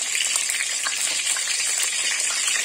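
Chopped onions for South Indian vegetable sambar fry in hot oil, a loud, steady, hissing sizzle close up with a dense crackle throughout and no talking.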